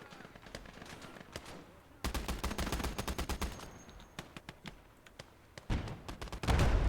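Machine gun fire crackles in a Soviet battle video game, with rapid bursts and scattered single shots, some distant and some close, growing louder toward the end.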